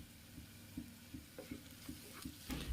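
Potato curry masala with turmeric, chicken masala and Kashmiri chili powder sautéed in a pan: faint, evenly spaced spoon taps and scrapes over a low sizzle, quiet and close, without talk.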